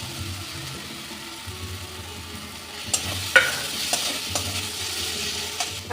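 Potatoes dropped into hot fried spice paste for malai lau, a soft steady sizzle broken by stirring scrapes and a few clinks, close and fairly quiet.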